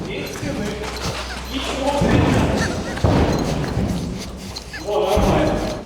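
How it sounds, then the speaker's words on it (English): Missiles exploding in the air overhead on the Israel–Gaza frontline, heavy booming thuds that come in several bursts, with people talking and shouting over them. "look at these missiles, they're fucking exploding in the air"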